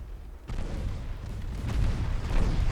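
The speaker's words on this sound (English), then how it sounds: "we're scoring some hits with the 7-inch guns" Royal Navy 7-inch naval guns firing in a naval warfare game set in a 1955 Norwegian campaign, a dull, rumbling boom rising from a quiet start and rolling on in heavy low thumps.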